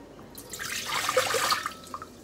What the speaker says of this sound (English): filling up the cup with the amount of water we need